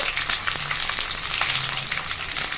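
Whole green chillies and sesame seeds frying in a pan for bottle gourd chutney, a steady close crackling sizzle with scattered small pops throughout, no talking.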